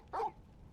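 A single short dog bark from the Final Fantasy XVI video game, one quick bright yelp standing out over a faint, quiet background.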